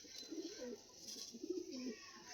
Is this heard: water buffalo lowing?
no